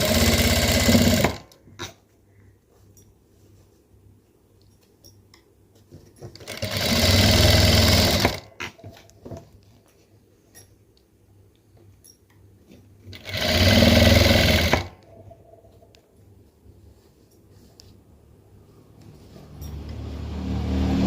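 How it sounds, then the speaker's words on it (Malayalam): A sewing machine stitches piping at an even width in three loud bursts, about one to two seconds each, separated by quiet pauses with faint background noise. "ഒരേ വീതിയിൽ അടിച്ച് പോരണം പൈപ്പിങ്"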